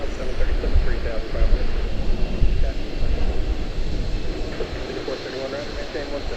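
A C-17 Globemaster rotating on takeoff at Charlotte-Douglas International Airport gives a low, rumbling jet roar heard from a distance under steady talk and radio chatter.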